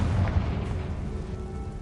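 A Confringo blasting spell going off in Hogwarts Legacy, a loud booming explosion with a sharp onset and a dense rumbling tail that stays heavy for about two seconds.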